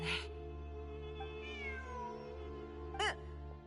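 A cat meows inside a video game, with a drawn-out call near the start and a short, sharp meow close to the end, set over a steady droning game soundtrack.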